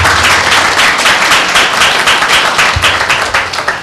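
A church congregation claps steadily together, dense and fairly loud, with individual claps blending into a continuous patter and no voices standing out.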